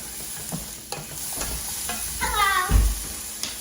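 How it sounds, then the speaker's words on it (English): Sauce being stirred in a sizzling pan in a kitchen, continuous frying hiss with spatula scrapes and clacks against the pan, a burst of louder bubbling sizzle near the end, no talking. "And then we're going to stir this up."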